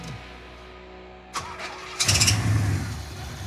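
A 1980 Pontiac Trans Am with the Turbo 4.9 engine cranks briefly and catches, then settles into a loud, rough idle close by.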